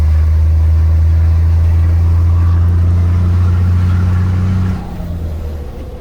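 An Isuzu 360 10-bolt engine drones loudly and steadily up close with a deep, rumbling tone, then its pitch drops and it quiets near the end.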